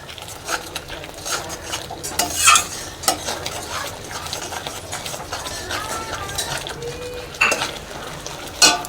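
Katla fish with yogurt being stirred and fried in oil, a steady sizzle under repeated scraping and clinking of a utensil against the pan, close and continuous.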